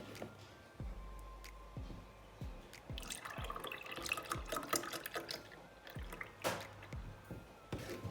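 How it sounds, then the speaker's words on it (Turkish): Milk pours into cake batter in a kitchen, a liquid splashing and trickling with scattered drips and knocks, close and fairly quiet. "Sütümü de koydum."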